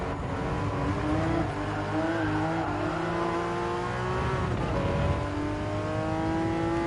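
A 2009 Porsche 911 GT3 Type 996 in Gran Turismo 7 holding a high, strained engine note near the rev limit, loud and continuous with slight pitch wavering throughout.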